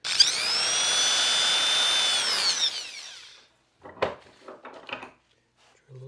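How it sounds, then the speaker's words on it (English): Power drill boring a small pilot hole for a cabinet hinge screw in a Honda Element micro camper build, a loud steady whine for about three seconds that winds down, followed by light clinks of handling. "Drill a little pilot hole."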